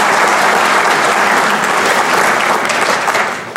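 A conference audience at Black Hat 2012 applauding to welcome a speaker to the stage, dense loud clapping that holds steady for several seconds and then tapers slightly at the end.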